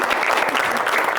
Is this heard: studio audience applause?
yes